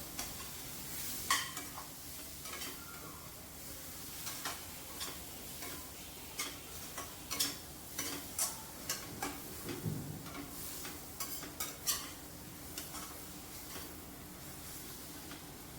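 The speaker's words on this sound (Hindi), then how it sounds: "और मसाले डालने के बाद मैंने फिर से एक बार इन्हें चला लिया है अच्छे से" Spices being stirred in a cooking pan, with a spoon scraping and tapping against the metal in a loose repeating rhythm over a faint background sizzle, close by and fairly quiet.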